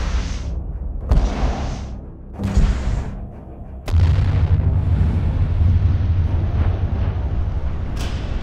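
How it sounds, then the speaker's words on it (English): During field testing of military ground vehicle fire protection, several sharp blasts go off in quick succession, then a final heavy explosion gives way to a long, loud rumbling roar that keeps going afterward. "we conduct field testing with real explosions."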